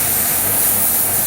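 Airbrush or spray can misting paint onto a Revell Imperial Shuttle model kit in a deliberately mottled pattern, a steady close hiss that runs unbroken with no pauses.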